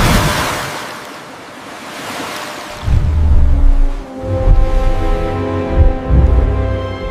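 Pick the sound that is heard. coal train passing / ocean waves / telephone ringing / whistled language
ocean waves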